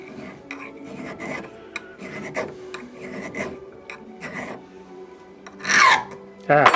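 Repeated harsh rasping and grinding bursts of a cutting tool chattering on metal held too far from its support, uneven, with a couple of louder shrill squeals near the end.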